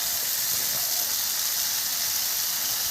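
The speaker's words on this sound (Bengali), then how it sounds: "তেল গরম হয়ে গেছে, পেঁয়াজ দিয়ে দিলাম, নুন দিয়ে দিলাম, নুনের ওপরে আলুগুলো দিয়ে দিলাম" Onions, salt and potatoes hitting hot oil, giving a loud, even, continuous hiss-like sizzle close by, with no talk.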